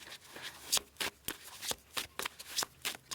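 Tarot cards are shuffled and drawn by hand in a series of crisp, close riffling bursts with brief pauses between them; no one speaks.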